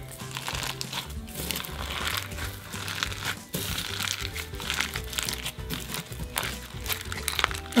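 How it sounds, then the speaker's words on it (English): Clear slime packed with glitter crunches and crackles steadily while being mixed, a dense continuous crinkling close to the microphone with no voices. "Can you just hear that crunch, that noise that it already makes?"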